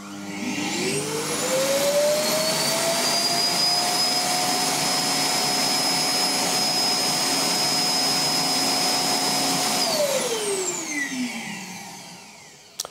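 An iRobot i8+ robot vacuum's base station empties the dust bin, a loud suction roar that rises in pitch, holds steady for about nine seconds, then winds down, close by and with no voices.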